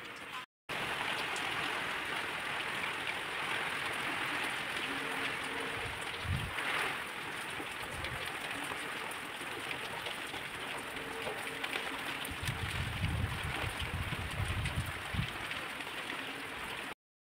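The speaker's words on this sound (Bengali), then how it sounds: "বাইরে প্রচণ্ডভাবে বৃষ্টির আওয়াজ হচ্ছে।" Heavy rain pours down outside at night during a cyclone, a steady broad rushing wash with occasional heavier thuds, while people talk quietly indoors.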